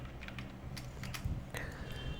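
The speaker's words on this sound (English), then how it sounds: "check the Ansible version by typing Ansible minus minus version" Soft, close keystrokes on a computer keyboard, a short quick burst of individual taps at low level with no speech.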